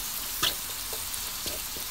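Annatto seeds sizzling in a small amount of hot oil, a soft steady hiss with a few faint crackles and a brief stir or clink, close and alone.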